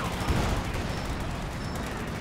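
Machine gun fire in Company of Heroes during a 4v4 battle on Hill 400, a dense, continuous rattle of rapid shots that stays loud and close for the whole stretch, with no pauses and no talk.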